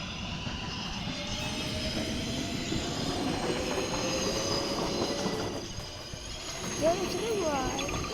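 A New York City subway 1 train runs along the track, a steady rolling rumble with wheel squeal rising near the end; an automated announcement voice can be heard over the noise.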